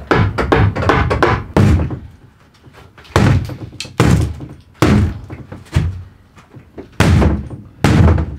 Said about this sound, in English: ready to knock this wall down here